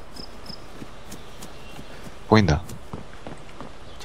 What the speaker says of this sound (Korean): 발소리나. 파밍하는데 발소리나.